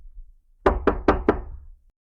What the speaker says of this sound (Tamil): உடனே எறும்புகளின் குகைக்குச் சென்று கதவை தட்டியது.